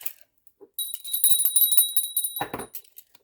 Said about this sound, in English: I'm going to ring a bell and it might be a little loud.